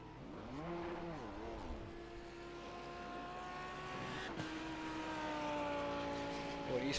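A race car in a Le Mans endurance sim revs and strains while trying to reverse out of trouble, its engine note rising and falling in uneven bursts before settling into a steady, climbing drone, loud and close, with commentary over it.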